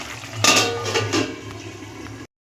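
A metal lid clatters onto a cooking pan of Bengali tengra fish curry on medium gas, a sharp clink followed by brief rattling, close and loud, then a soft simmering hiss before cutting out.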